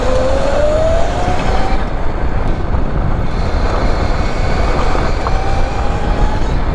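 Converted electric go-kart running fast at full speed, a steady loud broadband rush of wind and motor with a faint rising whine throughout, no voices.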